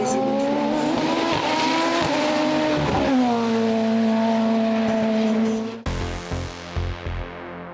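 A sport-category racing car climbs the Chamrousse hill climb course, its engine loud and close with rising pitch as it shifts through gears. A sharp cut near the end leads to a fainter, stuttering engine sound.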